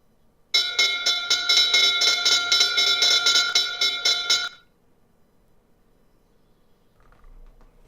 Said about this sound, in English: wait for the bell